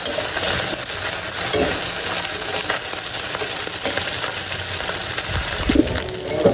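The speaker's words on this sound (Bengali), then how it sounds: "লাল লাল করে পুঁটি মাছগুলো ভাজবো।" Small puti fish frying in a pan until reddish, a steady hissing sizzle with occasional crackles and stirring clinks, close up, with faint birdsong in the background and no talking.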